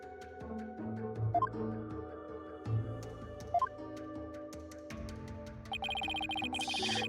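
Electronic phone ringtone from the courtroom adventure game Ace Attorney: Spirit of Justice, chiming in a few short tonal bursts over soft background music.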